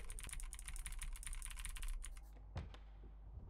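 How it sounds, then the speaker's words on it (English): Rapid, hard typing on a computer keyboard, a dense run of clattering key strikes for about two seconds, then a brief pause and a few scattered heavy taps, close and loud against a low background hum. "I'm just like slamming my keyboard."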